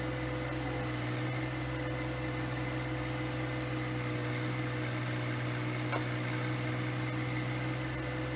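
John Deere 1025R compact tractor with a BXpanded 6-inch bucket, engine running steadily as it digs sod and topsoil, a constant low droning hum with faint mechanical rattle throughout, no talking.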